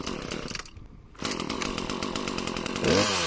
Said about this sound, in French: Je mets ma tronçonneuse sur on et je lance.